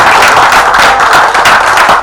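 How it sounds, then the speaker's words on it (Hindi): Loud, dense applause from a large audience at a live Hindi poetry recital, with many hands clapping steadily and close throughout. "मेरी होशियारी के लिए तालियां बजाना"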